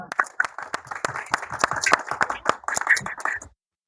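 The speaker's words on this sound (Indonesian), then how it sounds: "Tepuk tangan." An audience at an evening gathering in Boyolali breaks into scattered hand clapping, sharp irregular claps building into brisk applause for a few seconds before stopping abruptly.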